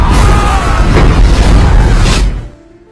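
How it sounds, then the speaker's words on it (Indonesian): A huge bomb explosion sound effect roars loud and sustained as a broad rumbling blast, then drops away abruptly into a faint tail near the end. "Hingga akhirnya terjadilah ledakan super dahsyat yang meratakan semua pasukan"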